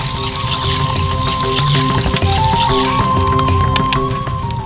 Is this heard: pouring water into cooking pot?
yes